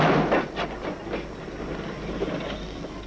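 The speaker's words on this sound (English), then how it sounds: "Detonators laid on the rails signal the approach of oncoming trains." Trains rumbling along rails on a foggy day, with detonators laid on the track as fog signals; a steady distant clatter with faint rhythmic knocks, no voices over it.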